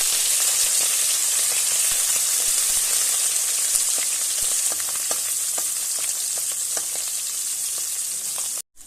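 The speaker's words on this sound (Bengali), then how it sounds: "মাছগুলো এবার আমি ভেজে নেব, একদম হালকা করে, শুধু এপিট ওপিট উল্টে নেব।" Small mourala fish fry lightly in oil with a loud, continuous close-up crackling sizzle that holds evenly until it cuts off abruptly at the end.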